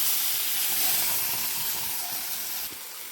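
Tomato paste made from two ripe tomatoes hits hot oil in a pan for a Tamil Nadu-style okra tamarind curry, a loud, close, hissing sizzle that slowly eases off, with no talking.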